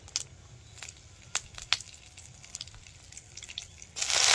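Bay leaves drop into hot oil as a tempering for a village-style Bengali fish curry, giving scattered sharp crackles and pops over a low hiss before a louder sizzling burst at the very end.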